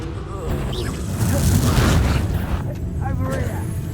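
Confringo blast spell explosions in Hogwarts Legacy combat, heavy booming bursts rolling over one another amid battle noise, with shouted voices over the top.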